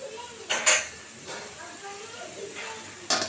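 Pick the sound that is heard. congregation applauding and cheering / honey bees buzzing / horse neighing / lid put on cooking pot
lid put on cooking pot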